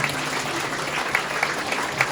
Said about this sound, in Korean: 신랑 신부 인사 여러분 큰 박수 부탁드립니다.